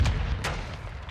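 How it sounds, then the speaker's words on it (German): A grenade blasts in Call of Duty: Modern Warfare 2, a sharp boom at the start with a second burst shortly after, both rolling into a low rumble beneath muffled game noise. "Scheiße, Granate."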